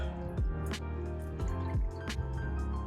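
Milk poured into a pot for creamed corn, a close liquid stream with wet glugging drips and splashes that rise and fall unevenly over a few seconds.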